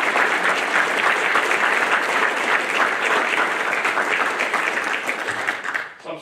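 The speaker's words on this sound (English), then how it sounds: "So I applaud all of you guys." Steady, sustained applause from the audience at a Navy Nuclear Field "A" School graduation ceremony, dense and continuous, tapering off near the end.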